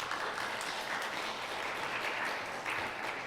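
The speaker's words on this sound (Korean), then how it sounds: "나올 때 고맙습니다 하는 박수도 한번 환영해 주시면 좋겠습니다." Welcoming applause from a university church congregation at a Wednesday service, a steady wash of many hands clapping, soft and somewhat distant, continuous for a few seconds.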